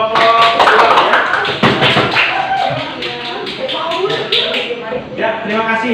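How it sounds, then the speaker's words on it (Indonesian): A group of students in a classroom lesson gets applause, heard as a quick patter of many claps mixed with voices talking over them. "ya beri aplaus untuk kelompok 2 ya"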